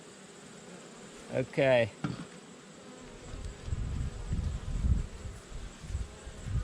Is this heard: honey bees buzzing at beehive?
yes